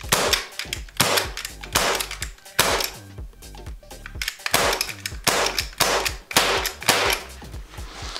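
A salt gun fires a rapid series of sharp, loud cracks close by, more than five shots coming in uneven bursts with short gaps between them.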